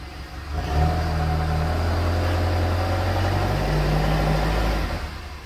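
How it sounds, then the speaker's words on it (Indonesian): A used car at a dealer showroom, its engine revved hard from the exhaust end, holds a steady loud mid-pitched roar for several seconds before easing back; a faint thin smoke is noted from the tailpipe. "kita lihat untuk dari cerabong asap knalpotnya Coba digas Mas Arif."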